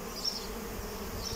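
Honey bees from a small swarm caught in a trap buzzing around the hive, a brief, steady, close hum with no voices.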